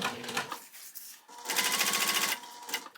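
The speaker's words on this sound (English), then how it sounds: "But you start sewing here at the top. These are right sides together, and then you just go all the way down." A sewing machine stitches two layers of fabric placed right sides together for an Owen Organizer: short whirring bursts, then a longer steady run of rapid needle hammering, close up with no voices.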